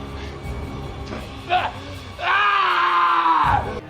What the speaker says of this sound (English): His screams, his sounds of pain are not Rick's